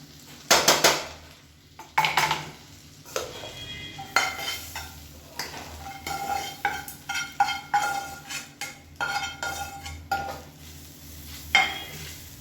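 Tempering being stirred into lemon rice in a pan, with close, irregular scraping and clinking of a spoon against metal in short bursts over faint background hum.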